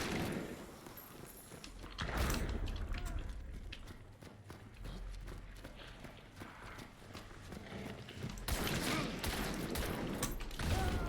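Gunfire in the video game Hunt: Showdown: a few sharp shots stand out near the start and again toward the end, over a busy game soundscape with hoofbeat-like clatter.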